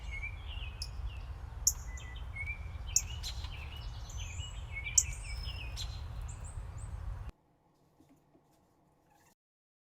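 Outdoors, a grosbeak gives repeated short, sharp chirps and calls over a low steady rumble for several seconds before the sound cuts almost to silence, with no talking.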